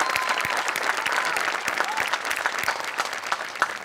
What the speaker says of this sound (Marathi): 5 मिनिटं सलग टाळ्या झाल्या पाहिजेत ही त्यांना खरी दाद आहे